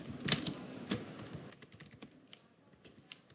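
Quick bursts of typing on a computer keyboard while a name is entered in Microsoft Word, close and fairly quiet, the clicks thinning out toward the end.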